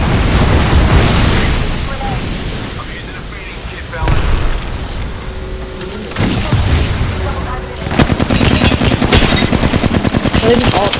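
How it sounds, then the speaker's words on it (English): Bomb bots firing on the player in the shooter game Apex Legends: loud bursts of rapid automatic gunfire mixed with heavier explosive thumps, coming in waves with brief lulls, with voices talking over the action. "Bomb bots are shooting at me"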